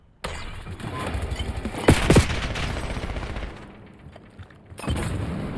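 Rapid bursts of gunfire in a video game, dense and loud, with a couple of heavier booms in the middle before the firing eases off and resumes.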